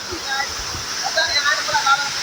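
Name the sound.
Pedi Khola waterfall at Shantinagar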